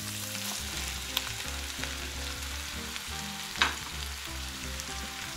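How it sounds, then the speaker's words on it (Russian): Mushrooms and vegetables sizzle steadily in a hot pan, a constant crackling hiss with occasional louder pops and scraping stirs. "Теперь берем и хорошенечко все обжариваем."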